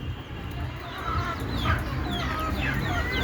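Native desi chickens kept on a rooftop cluck in quick, repeated calls at moderate distance over a low, steady background hum.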